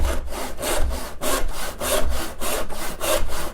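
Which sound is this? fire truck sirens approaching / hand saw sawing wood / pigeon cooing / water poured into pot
hand saw sawing wood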